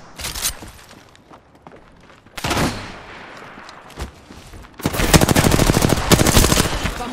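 Bursts of automatic gunfire ring out during an Apex Legends match, a short volley early on, another sharp burst midway, then a longer rapid stream of shots that carries on to the end.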